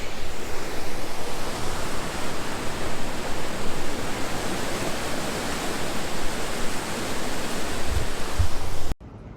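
Creek water rushing along Creek Street in Ketchikan, Alaska, a steady broadband wash of flowing water, loud and close, continuous with no talk until it cuts off at the end.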